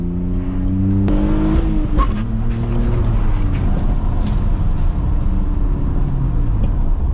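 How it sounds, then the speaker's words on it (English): BMW E46 with its muffler deleted droning under light throttle, a loud, close, continuous low exhaust resonance with shifting harmonic tones as revs rise and fall, filling the whole stretch. "You just give it a little bit of throttle and she just resonates."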